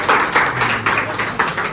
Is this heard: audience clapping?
yes